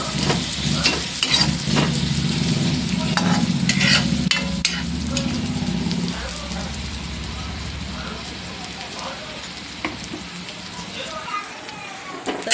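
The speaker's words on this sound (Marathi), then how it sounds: "आता मी कांदा टाकून घेतला आहे. चांगला गोल्डन थोडासा होऊ द्यायचा." Chopped onion fries and sizzles in a pan while being stirred, a steady close crackle with scraping stirs that is louder at first and softens later, with a little voice over it.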